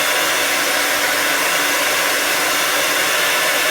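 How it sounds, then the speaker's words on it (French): A hair dryer blows continuously at close range over a freshly glued wig, a loud, even airy roar with no change in pitch and no voices. "Et moi, en même temps, je viens repasser un coup de sèche-cheveux."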